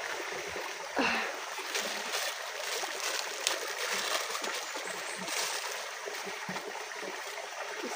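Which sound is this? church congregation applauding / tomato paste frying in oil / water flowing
water flowing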